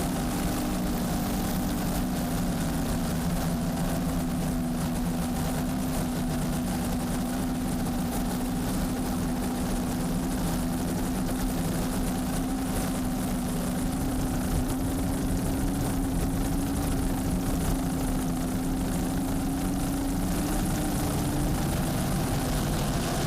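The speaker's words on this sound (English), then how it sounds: "Boats spreading out." Racing powerboat engines on Skater catamarans at a Supercat race in Sarasota, Florida, drone as a steady, sustained engine hum held throughout the whole stretch, distant and even, with no voices.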